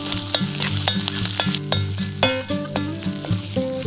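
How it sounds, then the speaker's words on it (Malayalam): Mustard seeds, curry leaves and crushed coconut sizzle in hot oil while cooking a banana flower thoran, with sharp crackling pops over a steady frying hiss and some sustained tones beneath. "ഈ കടുക് ഇട്ട് കൊടുക്കുകയാണേ."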